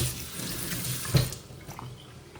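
Water poured into a pot of dal as it cooks, a steady splashing pour with a brief louder gush in the middle, fairly close and without speech.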